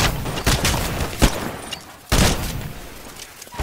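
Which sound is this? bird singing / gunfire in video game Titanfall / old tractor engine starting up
gunfire in video game Titanfall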